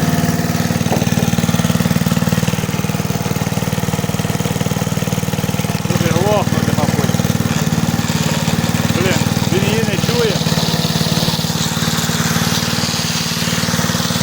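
A Kirsch petrol generator runs loud and steady at close range with a constant engine drone, while voices talk over it in the middle of the stretch.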